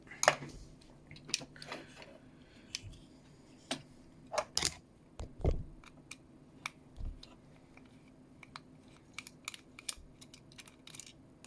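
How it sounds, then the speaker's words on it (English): Phillips screwdriver backing a screw out of a Thrustmaster TCA sidestick, with faint scattered ticks and small plastic clicks at irregular intervals, close but quiet against near silence. "So what you need to do is remove this screw from the middle. Normal Phillips head screwdriver"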